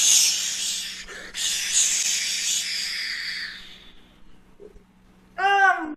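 Steady, loud hiss of a paint sprayer blowing white paint onto a Christmas tree for several seconds, fading out with a sputter, then a voice begins.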